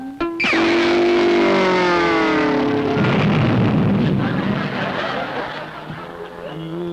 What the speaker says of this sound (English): That kaboom worked for me.